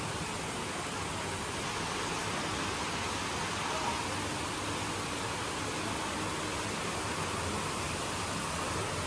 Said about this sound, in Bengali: কি পরিমাণে বৃষ্টি হচ্ছে দেখো আবারও